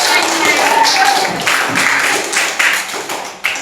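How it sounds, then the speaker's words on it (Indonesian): A classroom group claps briefly for a student's answer during a school lesson, several hands patting unevenly over a few seconds amid background chatter. "tepuk tangan dulu tuh"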